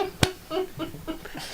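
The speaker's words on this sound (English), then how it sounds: "Let me clap." A single sharp hand clap rings out close to the microphone early on during a live podcast stream, followed by quieter room noises and movement.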